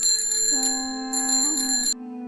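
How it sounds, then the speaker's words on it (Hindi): A bicycle bell rings twice as a horror story sound effect, with a bright metallic tone that sustains clearly on its own and then fades out. "साइकिल की घंटी फिर गूंजी।"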